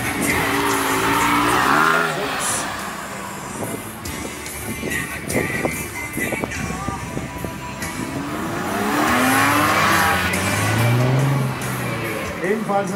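A Porsche sports car with a 3.8-litre engine roars and sweeps past nearby at a car meet, with tire noise and a rising rev, loud and continuous throughout.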